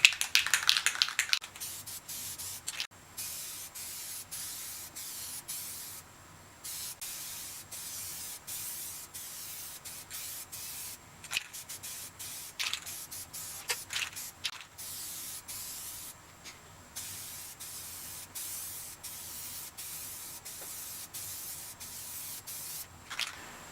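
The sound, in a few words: spray painting plastic door panel with SEM color coat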